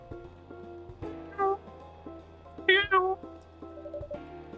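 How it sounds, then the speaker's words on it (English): A cat in the video game CoffeeTalk 2 gives two short, high meows near the middle, set over soft, steady background music. "If I'm not mistaken, this is a local cat."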